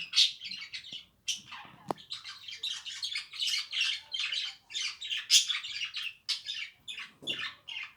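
Pet birds kept at home squawk and chirp in a busy run of harsh, bright calls, close and fairly loud, with short pauses between bursts.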